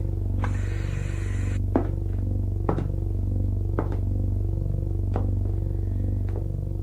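A door in a radio drama adaptation of Asimov's The Caves of Steel, heard as a series of sharp knocks and clunks spaced over several seconds above a steady low electrical hum, close and without speech.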